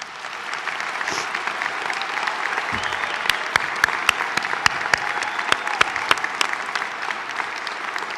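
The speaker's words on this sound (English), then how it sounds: "give them a round of applause" Audience applause for graduates at a fall commencement ceremony, a broad sustained wash of clapping from a large crowd with sharp individual claps standing out, steady and continuous throughout.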